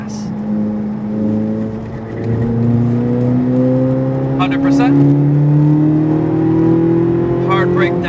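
A car accelerating on a race track, its engine note climbing steadily in pitch under load with a strong, close-up drone; a voice briefly talks over it partway through.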